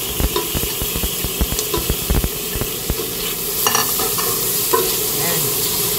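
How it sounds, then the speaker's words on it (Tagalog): Tomato and pepper land in a hot pan for a sponge gourd and wheat vermicelli dish, with rapid stirring knocks and scraping over a continuous sizzle of frying. "Pwede na po natin ihulog ang ating tomato and pepper."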